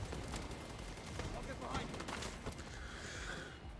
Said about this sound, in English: Not a very nice grenade.